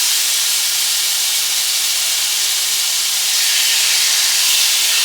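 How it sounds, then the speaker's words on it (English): Bulgogi sizzles in a skillet heated to 400, a loud, steady broadband hiss that swells slightly toward the end and runs unbroken throughout with no talking. "hear that sizzle."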